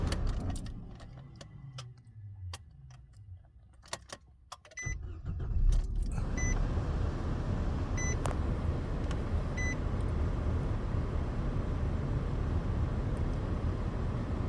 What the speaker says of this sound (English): turn off the car and start it back up